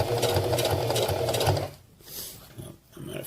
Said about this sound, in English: I'm just kind of holding the material in place as I sew along